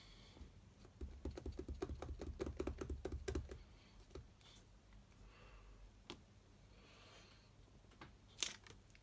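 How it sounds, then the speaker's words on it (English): Butterfly rubber stamps inked with Versamark are pressed down onto watercolour paper, giving a quick run of soft taps and light knocks, followed by a few isolated faint taps in a quiet room. "I'm taking the 2 butterfly stamps, which I have here, and my Versamark ink, and I'm just going to randomly stamp these down."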